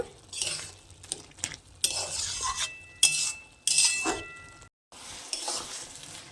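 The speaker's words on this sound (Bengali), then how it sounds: "এবার আমি একটা ডালঘাটা কাটার সাহায্যে আমি আলুগুলো একটু থেতো করে নেব" Boiled potatoes being mashed with a dal masher in a pot for a tadka dish, giving repeated scraping, clattering and squishing strokes at close range, with no talk.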